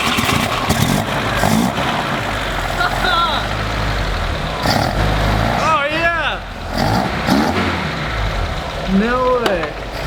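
An abandoned 1976 BMW 2002 engine cranks, catches and revs in a workshop, loud and close, with rising and falling engine notes as people talk over it.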